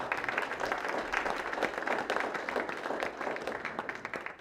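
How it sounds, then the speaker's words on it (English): Steady applause from an audience at a school board candidates event, dense clapping filling the whole stretch at a moderate, even level. "Would you give them a round of applause before we get started?"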